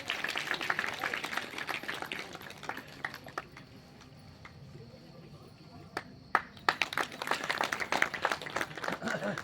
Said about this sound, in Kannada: ಎಲ್ಲರೂ ಚಪ್ಪಾಳೆಯನ್ನು ಬಾರಿಸಬೇಕು